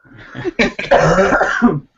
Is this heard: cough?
yes